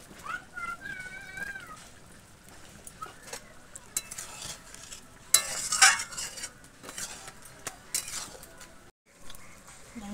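Chicken pieces and fried potatoes are stirred in a pot with a little water for homemade chicken biryani, giving soft intermittent scraping and clinks over a quiet simmer, with a faint meow-like cry early on.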